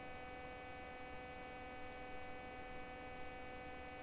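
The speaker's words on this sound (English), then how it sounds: "I can hear those fans whirring away as well." Computer fans whir in a steady, continuous drone with a constant hum, holding even and unbroken throughout with no voices.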